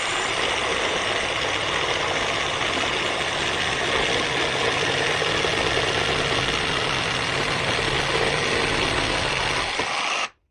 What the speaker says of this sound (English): With the pendulum set to maximum, it cuts quickly and crookedly.